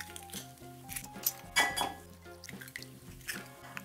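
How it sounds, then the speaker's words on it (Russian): Three eggs cracked one after another into a bowl while making French toast with egg and milk: a few sharp, close clinks and taps against the bowl rim, heard over soft steady background music. "3 яйца разбиваю в миску."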